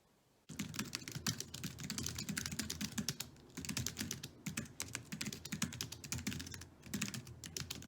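Fingers type rapidly on a computer keyboard while a novel is being written, producing a dense, continuous run of close key clicks with short pauses in between, against a quiet background with no speech.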